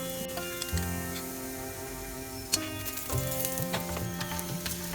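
Paratha brushed with oil and cooking in a pan over a medium flame, a soft steady sizzle with occasional light clicks and taps of utensils against the pan, close and fairly quiet.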